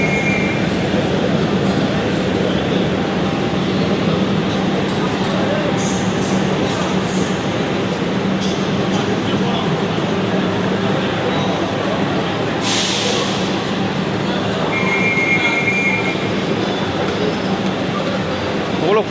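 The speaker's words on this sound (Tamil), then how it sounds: "ஓகே ட்ரெயின் வந்துச்சு ராக்ஃபோர்ட் ராக்ஃபோர்ட் எக்ஸ்பிரஸ் இப்போ தான் வந்துருக்கு" The Rockfort Express passenger train rumbles loudly and continuously as it arrives at a crowded Chennai station, with steady mechanical noise, a brief hiss, and crowd voices mixed in.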